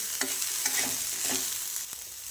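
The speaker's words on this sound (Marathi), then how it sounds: "याला पण वरतून आता थोडंसं तेल टाकून घ्यायचं आणि छान ही भेंडी भाजून घ्यायची आहे" Okra pieces frying in a little oil in a pan, a steady close sizzle with a few stirring scrapes and clinks, no voices.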